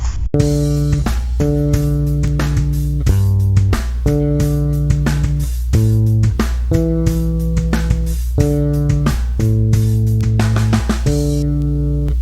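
An electric bass plays the groove from a song, a run of clean, sustained notes in a repeating pattern, with short gaps between phrases, loud and close, alone with no talk.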